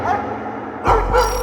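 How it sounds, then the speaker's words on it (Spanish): Doberman dogs bark at a prison, with two sharp, loud, close barks in quick succession near the end of a short stretch. "Bonitos perros, oficial. Los Doberman son leales, ¿verdad?"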